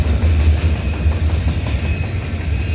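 A CN mixed freight train of gondolas and tank cars rolls past at Dorval, with a steady low rumble and faint wheel clatter, close and continuous throughout.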